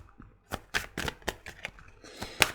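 Tarot cards being shuffled and drawn by hand, a quick series of crisp papery riffles and slaps, close and fairly clear, with no talking.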